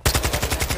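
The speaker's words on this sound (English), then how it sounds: "I got guys shooting at me hard here." Automatic gunfire rattles in a Call of Duty multiplayer match, a loud, rapid and steady burst of about a dozen shots close by, with no talking over it.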